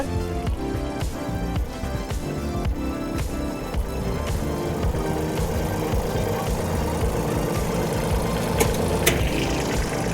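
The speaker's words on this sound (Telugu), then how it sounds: "చిన్న ట్రాక్టర్తో మన నేల గట్టి పడకుండా మినీ ట్రాక్టర్తో ఎదబెడుతున్నారు" A mini tractor engine plowing a field chugs steadily and loudly at working pace, a continuous mechanical rumble with clattering knocks and no voices.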